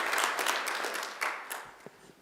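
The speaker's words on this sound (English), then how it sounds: "Let's give Melissa another big round of applause." Graduation ceremony audience at Macquarie University applauding after an address, a loud burst of clapping that gradually thins and fades out over two seconds.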